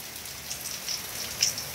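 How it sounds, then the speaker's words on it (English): Heavy rain pouring down outdoors, a dense, steady hiss of drops on surfaces with a few brief splashes, continuous and fairly close. "it's absolutely pouring"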